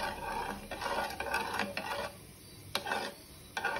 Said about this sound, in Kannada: ಒಂದು ಗ್ಲಾಸ್ ನೀರಿಗೆ ಕಾಲು ಚಮಚ ಉಪ್ಪು, ಕಾಲು ಚಮಚ ಸಕ್ಕರೆ, ಇದನ್ನು ಮಿಕ್ಸ್ ಮಾಡೋಣ.